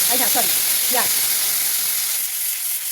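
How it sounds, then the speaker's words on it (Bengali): Cumin seeds tempering in hot frying oil left over from frying potatoes for a Bengali potato curry: a steady, close sizzling hiss throughout, with a brief murmur of voice near the start. "ওই তেলের মধ্যে জিরে ফোড়ন দেবো"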